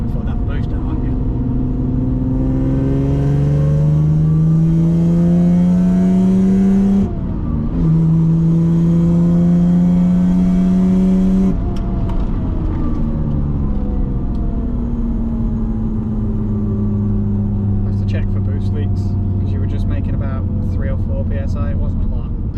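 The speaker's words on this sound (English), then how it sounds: "We just want supercharger noises" A freshly supercharged car engine revs repeatedly, its pitch climbing and falling in loud sweeps with a brief drop between pulls, close up and dominating the scene.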